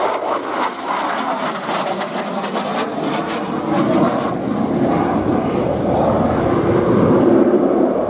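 Harrier jet making a conventional takeoff at a RIAT airshow, a loud, steady roar with broadband turbine noise that swells as the jet accelerates down the runway, heard from a distance.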